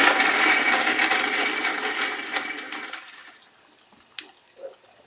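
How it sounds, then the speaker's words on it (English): Vitamix blender whirring as it grinds spices with a little water into a fine paste, loud at first then fading as the motor winds down, followed by a few light clinks and knocks. "is that a Vitamix blender?"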